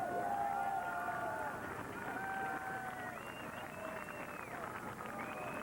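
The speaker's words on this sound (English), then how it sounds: "You can hear the crowd encouraging her on." Spectators at a combined carriage driving marathon course at the 2016 World Equestrian Games cheer and shout continuously, a fairly distant, sustained mass of voices urging on a competitor, with nearby talk mixed in.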